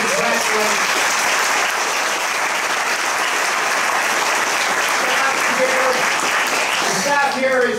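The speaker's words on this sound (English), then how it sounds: "You guys are the best. You're to be applauded." Loud, dense applause fills a chamber of commerce luncheon, a large audience clapping continuously with some voices and cheers mixed in near the end.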